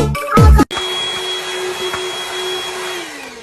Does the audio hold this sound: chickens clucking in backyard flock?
no